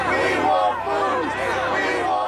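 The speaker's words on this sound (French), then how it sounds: "Ces manifestants, des comédiens engagés par l'armée pour simuler une foule de réfugiés affamés" A crowd of actors playing starving refugees shouts and clamours in protest, many overlapping voices yelling together in a loud, dense, continuous roar.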